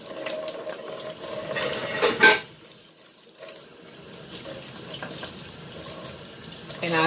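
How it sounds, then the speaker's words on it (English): Tap water runs steadily into a sink while a makeup brush is rinsed under it, the flow briefly dropping away and then returning, with some quiet talk over the water. "And I rinse it."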